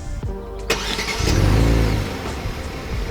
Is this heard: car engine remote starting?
yes